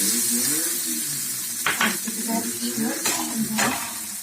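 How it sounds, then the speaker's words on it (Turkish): Anchovies (hamsi) fry steadily in a home pan, a continuous close sizzle broken by a few louder clatters and scrapes as the fish are turned over. "şöyle hamsimizi ters tarafını pişiriyoruz"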